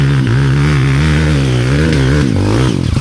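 A motorcycle engine revs loudly and continuously on a muddy enduro trail by a ditch, its pitch wavering up and down as the throttle is worked, close and dominant with no talk.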